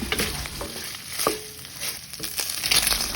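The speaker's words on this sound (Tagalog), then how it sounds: "tayo ay magigisa na" Food sautés in hot cooking oil in a steady, close sizzle with stirring scrapes running throughout, continuous and fairly loud.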